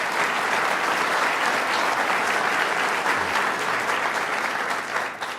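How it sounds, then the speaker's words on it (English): A large inaugural crowd applauds Senator Dean Skelos at the 2011 swearing-in of Governor Cuomo in New York, a loud, dense, sustained roar of clapping that holds steady and begins to taper at the end, with no speech. "Let's give him a round of applause."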